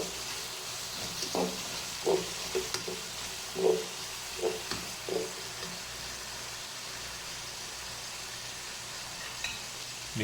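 Whole red chillies hit hot oil in a pan for chana pulao, giving a steady close sizzle with a run of sharper crackles and pops near the start before it settles into a softer hiss.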